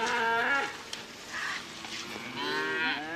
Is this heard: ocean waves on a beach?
no